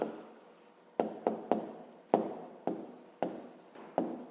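A pen scratches on paper during a fifth-grade math exercise, writing in short strokes with sharp taps at regular intervals, close and moderately quiet.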